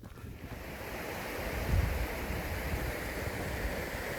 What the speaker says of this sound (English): Here's a pretty big river crossing.